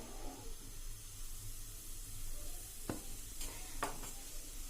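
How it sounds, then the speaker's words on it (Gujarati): Cumin seeds and asafoetida sizzle in hot oil while potato chips are being made, a soft, steady frying hiss broken by a couple of sharp pops. "તેલ ગરમ થાય એટલે આપણે 1 ચમચી જીરું નાખી દેશું, 1 ટીસ્પૂન જેવું, અને થોડી એવી આપણે હિંગ નાખી દેશું।"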